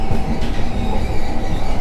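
A Trenitalia InterCity long-distance train pulled by a locomotive runs on rails near Palermo, producing loud, continuous rolling rumble with rhythmic wheel clatter and faint squeal throughout, with no voices.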